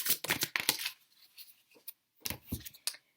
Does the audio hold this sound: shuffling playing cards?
yes